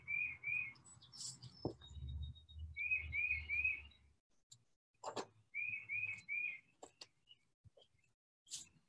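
Birds outside give clear whistled chirps in quick groups of two or three, repeating several times at moderate distance, mixed with soft thumps and rustles of nearby handwork and brief quiet gaps.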